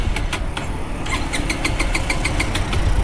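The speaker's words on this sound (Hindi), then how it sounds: "एक बार मैं आपको फिर से बाइक स्टार्ट करके दिखाता हूँ" A 2023 Bajaj Pulsar 220F fuel-injected motorcycle is self-started with an empty fuel tank. The starter cranks steadily in a fast, even rhythm close by for several seconds without catching, and no one talks.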